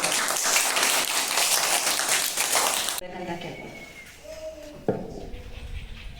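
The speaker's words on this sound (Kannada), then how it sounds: "ಇನ್ನೊಂದ್ಸಲಿ ಜೋರ ಚಪ್ಪಾಳೆ ತಟ್ರಿ ಅವರು" A burst of crowd applause at a Doctor's Day celebration in Bailhongal for about three seconds, then it stops and a few voices talk quietly.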